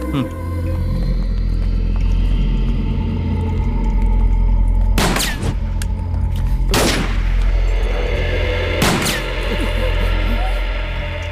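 Three sharp gunshots ring out a couple of seconds apart over a steady low rumble and background noise, fairly loud and close.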